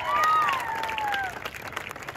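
Audience applause at a bodybuilding competition in Kolhapur, a steady broad wash of clapping that swells early and then thins, with faint tonal voices or whistles riding over it.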